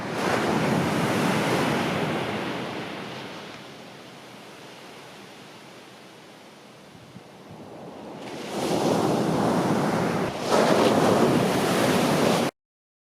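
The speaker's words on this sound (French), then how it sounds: "le Mistral pousse de belles vagues sur la plage de Brion" Sea waves driven by the Mistral wind break on Brion beach in the Var, loud roaring surf that swells, dies down to a softer wash and then surges again, with wind buffeting the microphone.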